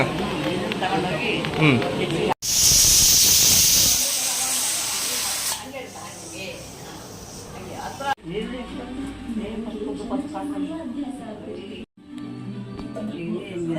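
A pressure cooker holding a village-style sheep head and trotters curry releases a loud, sharp burst of hissing steam for a couple of seconds, with people talking before and after.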